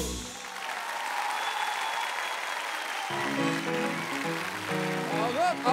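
A television studio audience on Beyaz Show applauds a live performance. The clapping is loud and sustained for about three seconds, then music starts underneath it as the applause continues.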